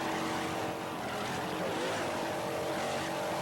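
Offshore racing powerboat of the Wide Open race team at the 1992 Sunoco Offshore Shootout, its engine held under throttle in a continuous loud, rough roar on open water, steady and dense throughout.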